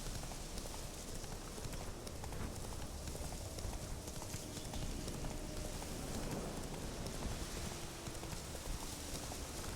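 Roach, a horse in The Witcher 3 video game, trots along with steady clip-clop hoofbeats over soft background ambience. The hooves are moderately close and keep an even rhythm.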